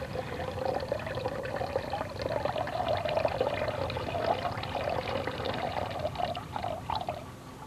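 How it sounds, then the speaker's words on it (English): Oil pours steadily into an old fish tank of water, a continuous close liquid gurgle and trickle lasting the whole stretch with no talking. "I'm pouring this oil into the old fish tank to show you how oil floats on top."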